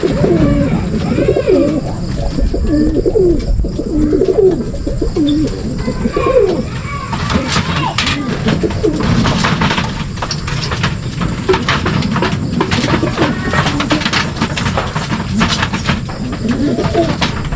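Racing pigeons at a club loft in Baras, Rizal coo steadily and loudly up close, layered low throaty calls that continue throughout with rustling and some background noise.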